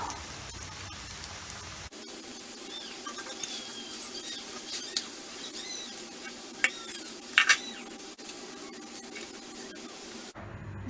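Banana chips frying in hot oil, a dense steady sizzle like rain with scattered crackles and a few sharp pops, close and continuous without speech.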